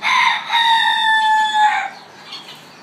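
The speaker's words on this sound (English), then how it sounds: "Look at the peacocks." Peacocks call nearby in a loud, drawn-out wailing cry with harsh bright overtones, a single call lasting under two seconds before fading.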